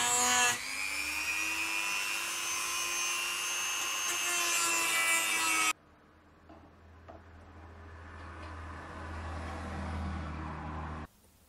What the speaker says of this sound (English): Need to just whittle a little bit of material off the top of this stainless steel bit so that the hole lines up there.